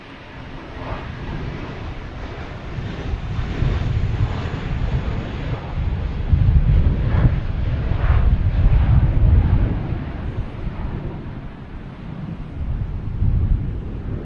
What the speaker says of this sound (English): We have a JetBlue taking off, heading to Atlanta, an A320.